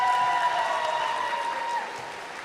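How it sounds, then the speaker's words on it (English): Crowd applause at a roller derby game between two B-teams, a steady broadband wash of clapping that holds for a couple of seconds at moderate level and eases slightly toward the end. "Hey, big round of applause."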